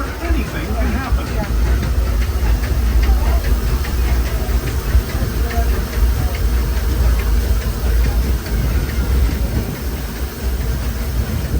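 Disneyland Railroad steam train running past Hungry Bear Restaurant toward the Rivers of America, a loud continuous rumble and chuff of the engine with rattling cars, close and steady throughout.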